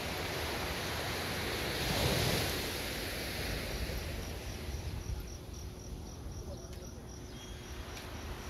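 Steady surf washing against an eroding shoreline road, a continuous broad roar with a slight swell around two seconds, joined by a thin insect chirr and some wind buffeting.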